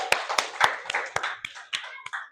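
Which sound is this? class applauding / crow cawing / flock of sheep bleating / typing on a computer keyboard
class applauding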